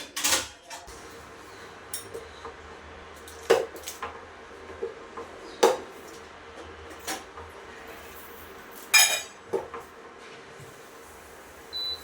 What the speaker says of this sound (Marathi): पहिले रात्रीची जी भांडी घासून ठेवलेली ती मांडून घेते